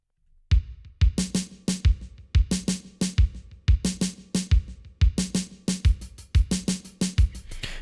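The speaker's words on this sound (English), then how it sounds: "there's a Linn drum machine sample pack on reverb.com and I use it all the time" A punchy vintage Linn drum machine beat loops steadily, with booming kicks, snappy snares and crisp hi-hats in a tight repeating groove.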